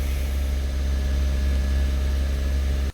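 Car engine held steady at about 2,000 RPM in a fuel systems lab, a continuous loud, even mechanical drone with strong low hum, running alone without pause.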